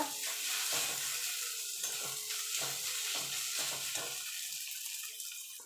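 Ginger and garlic paste being stirred as it fries in a pan for tomato chops, a steady close sizzle broken by repeated scraping strokes of the spoon, with no voices.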